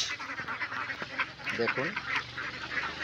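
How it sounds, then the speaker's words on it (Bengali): Ducks on a small farm of about 500 birds quack in the afternoon, a busy scatter of calls at moderate distance, with someone talking over them. "আপনাদেরকে দেখাবো আমার ছোট একটা হাঁসের খামার। এই খামারে রয়েছে 500 হাঁস।"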